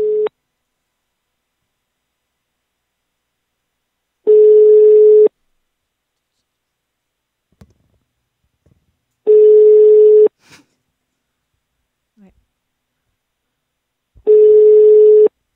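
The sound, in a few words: telephone call ringing, not picked up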